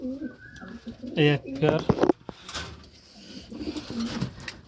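Domestic pigeons in a coop, including a rare-coloured local hen, give several low throaty coos close by, mixed with brief rustles while someone talks in Bengali.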